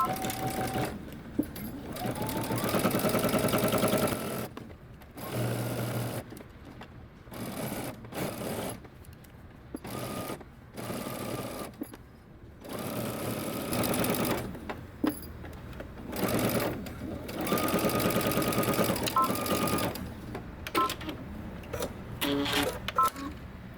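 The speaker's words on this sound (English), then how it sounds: "now we're going to go ahead and take this to the sewing machine" A sewing machine sews a seam on a puff-sleeve bodycon dress, running in repeated close bursts of fast mechanical stitching broken by short pauses.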